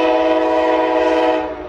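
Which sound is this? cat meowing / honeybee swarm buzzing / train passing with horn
train passing with horn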